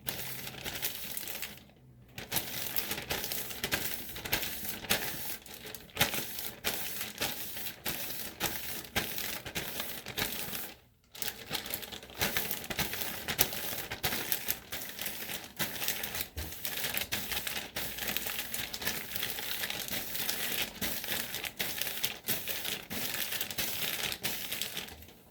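Steady, dense crinkling and rustling of thin plastic continuing for a long stretch, with two brief pauses; close and fairly loud, no voices.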